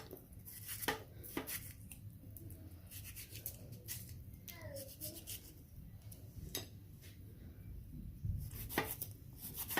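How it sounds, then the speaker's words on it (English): Knife cutting tomatoes into big slices on a board for a fish stew, a series of sharp irregular chops and taps close by over a low background hum. "I'll just cut big slices, big pieces."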